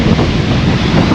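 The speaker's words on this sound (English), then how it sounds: "So it's a bit windy" Strong wind buffeting the microphone on a coastal path on Anglesey, a loud continuous roaring rumble with no breaks and no voices.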